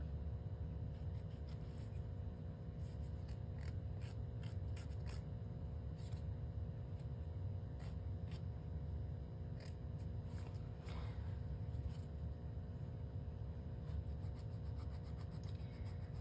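Fingernails being filed with a nail file, a quiet close rasping scrape repeated in quick irregular strokes, with soft background hum and no speech.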